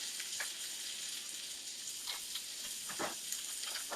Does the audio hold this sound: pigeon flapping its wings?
no